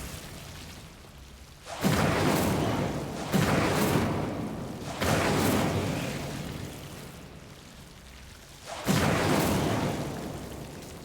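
Four separate bursts of roaring fire from the Incendio spell in Hogwarts Legacy, each flaring suddenly, then crackling and fading over about a second, spaced a few seconds apart.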